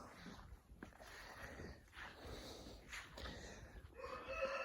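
A rooster crows in a village yard, faint and distant, with a couple of brief calls rising over quiet farmyard background noise.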